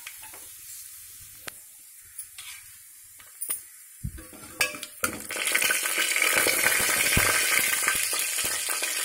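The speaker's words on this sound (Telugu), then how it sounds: "పోపు చిటపట్లాడుతుంది కదా" Mustard seeds and cumin tempering in hot oil, starting with a few sparse pops and clinks, then breaking into a loud, continuous crackling sizzle close by.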